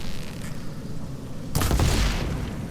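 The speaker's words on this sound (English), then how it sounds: "Oh, I can blow those up." A sudden explosion booms in Horizon Forbidden West, breaking over a low steady ambience with a loud, broad blast that then rumbles and fades.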